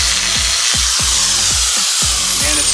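An angle grinder cuts out a vehicle U-joint, a loud, steady high-pitched whine with rhythmic low thumps as the worn blade bites into the metal, close and continuous.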